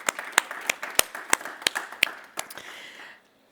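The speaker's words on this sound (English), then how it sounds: "Round of applause for you gentlemen." A small conference audience claps for panelists at a roundtable, sparse distinct handclaps at an irregular pace rather than a dense roar, tapering off and ending in quiet after about three seconds.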